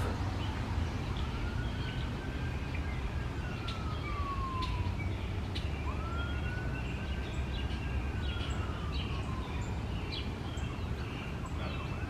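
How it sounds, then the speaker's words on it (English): Distant tornado warning sirens in Independence, Missouri, wail in two long rising-and-falling sweeps during severe thunderstorms, faint over steady outdoor background noise. "So the sirens should be going off"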